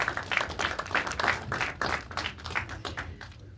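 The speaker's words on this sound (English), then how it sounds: "So let's give a big round of applause to everybody, the cameraman, the sound people, the movie, the cast." A movie premiere Q&A audience claps for the cast and crew, uneven bursts of hand claps rising and falling in loudness, moderately near and without talk.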